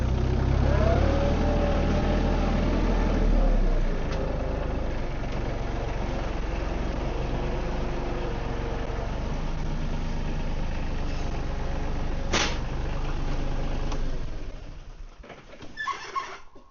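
Landscaping equipment engine idling steadily near a pole barn, a loud continuous low rumble that holds for most of the run, then drops and sputters irregularly near the end.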